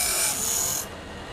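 A Woodland Mills Grindlux 4000 sharpener grinds the gullet of a sawmill bandsaw blade, a brief close, bright rasping hiss that lasts under a second and then drops to a quieter whir.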